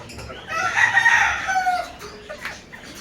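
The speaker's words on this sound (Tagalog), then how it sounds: "Ito yung mga hen na nakapahinga." Apache Gray gamefowl rooster crowing nearby, one loud drawn-out cock-a-doodle-doo with farmyard background noise and faint clucks after.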